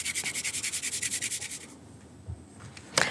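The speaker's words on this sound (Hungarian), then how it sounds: "Aztán jöhet hozzá fokhagyma, 1 gerezd, ezt én reszelni szoktam." A single garlic clove rubbed against a fine grater for a parmesan-crusted chicken dish, giving a fast run of rhythmic scraping strokes for about a second and a half, then a quiet pause and a brief clatter at the end.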